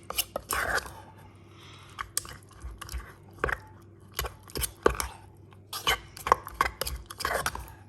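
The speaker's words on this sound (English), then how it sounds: "Give it a good mix." Overnight oats mixture being stirred in a bowl, with irregular close scraping and clinking strokes of a utensil against the dish, some louder knocks, over a quiet background.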